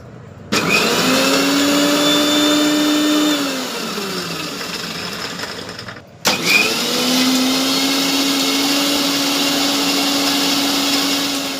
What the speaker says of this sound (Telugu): కలిపి ఇప్పుడు మిక్సీ ఆడుకుందాం మెత్తగా.